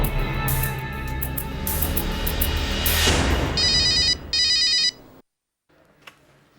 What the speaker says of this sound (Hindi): मॉम, विक्रम का फोन है।